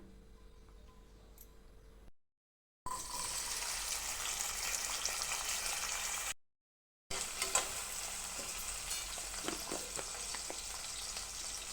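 Cooking oil heats and sizzles in a pressure cooker for a capsicum curry, a steady close frying hiss that is broken by two short gaps and carries faint clicks, with no talking.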